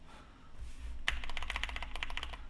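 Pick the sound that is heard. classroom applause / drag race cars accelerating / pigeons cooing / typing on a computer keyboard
typing on a computer keyboard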